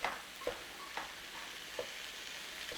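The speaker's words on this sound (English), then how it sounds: "Start breaking your meat down in there with your onions." Minced beef and onions sizzle softly in a pan, with a utensil scraping and stirring at irregular intervals, faint and close.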